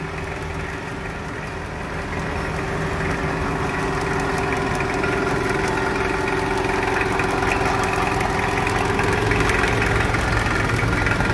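A Kubota V1305 40 hp diesel engine driving a water pump runs steadily at idle with a constant mid-pitched drone and slight knocking, loud and continuous throughout.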